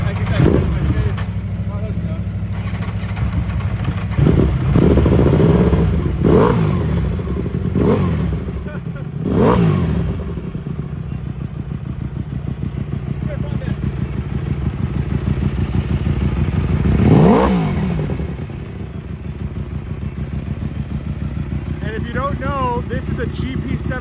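Ducati Desmo motorcycle with a rare factory GP7 exhaust idling loud and close, with a rough pulsing throb and several blips of the throttle that rise and fall, while a person talks over it.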